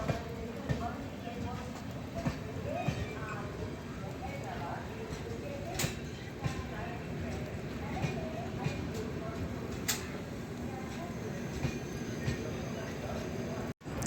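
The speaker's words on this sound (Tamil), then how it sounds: "ஃபைனலாக நம்ம ட்ரெயின் வந்து கிளம்பிடுச்சு." A passenger train pulls out of Chennai Beach railway station in light rain, with a steady rumble and rhythmic wheel clacks. Voices can be heard nearby.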